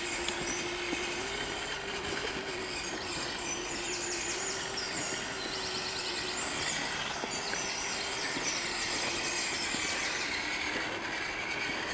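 The 380 electric motor of an FTX Outback RC crawler running on 3S, a continuous whirring whine with faint high gear squeals, steady and close throughout.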